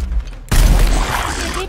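A single loud, sharp gunshot in the video game Gears Tactics bursts out after a moment of quiet, followed by a lingering rumble and rattle.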